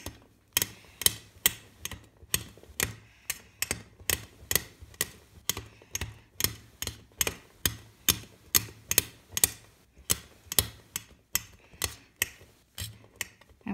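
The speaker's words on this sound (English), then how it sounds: "First of all, we need to chop up our scraps into some roughly even size" A knife chops polymer clay scraps into small, roughly even pieces on a hard surface, giving about two crisp, close taps per second in a steady rhythm with no talking.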